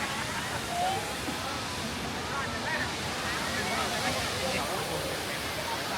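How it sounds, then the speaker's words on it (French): Wachirathan waterfall near Chiang Mai gives off a constant broad rushing roar with no breaks, while a voice can be heard faintly over the water. "Et voilà, nous devant la super waterfall."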